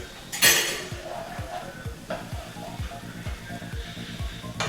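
A spoon stirs tamari into a sauce in a pan, with repeated rhythmic scraping and clinking of utensil against cookware and a faint sizzle beneath, close and fairly loud.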